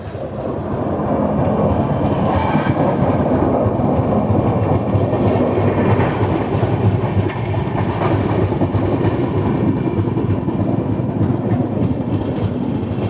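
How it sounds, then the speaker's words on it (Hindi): Steady, heavy rumble and wheel clatter as the Agartala Charlapalli Special Express passes close alongside an express train leaving Vizianagaram Junction, loud and continuous throughout. "यहाँ पे सामने आ चुकी है अगरतला चरलापल्ली स्पेशल एक्सप्रेस"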